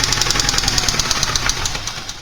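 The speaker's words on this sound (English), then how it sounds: "In terms of connecting rod knock, the sound can range from a light tapping to a much deeper thunking sound" A Porsche 944 engine with connecting rod knock runs loud and close, a fast, even metallic tapping repeating several times a second over the engine's steady hum.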